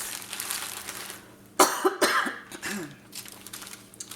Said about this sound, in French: Quand je m'étouffe, moi, j'arrête pas de tousser